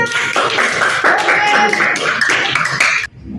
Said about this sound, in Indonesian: berikan tepuk tangan semangat